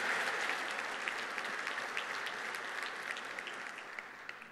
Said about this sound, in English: Round of applause for Dave, folks.